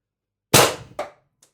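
A single sharp, loud pop from a Pistelle X-68 Punisher foam blaster fitted with a Huben power stock and ADN X18 drum mag, followed by a quick mechanical clack and a faint tick as it settles.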